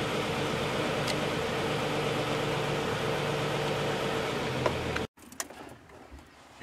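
A 1936 Hudson Terraplane's engine runs steadily at a low, even idle for about five seconds, close and continuous, before it cuts out abruptly; faint scattered knocks and rustles follow.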